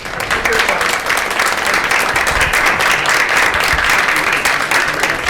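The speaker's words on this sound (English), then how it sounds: "Let's give them a round of applause." Audience applause after a sharing session, a continuous loud wash of many hands clapping, sustained and even for the whole stretch with no speech.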